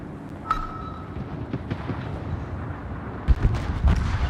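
Naval gunfire in World of Warships, a few distant booming shots and rumbling impacts layered over a constant low battle roar, with one brief high ping.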